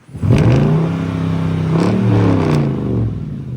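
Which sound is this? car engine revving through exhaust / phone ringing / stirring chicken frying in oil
car engine revving through exhaust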